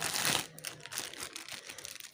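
A plastic bag filled with lemon concentrate is squeezed by hand to force the air out. Close crinkling and crackling of the plastic is loudest at first, then continues in smaller rustles.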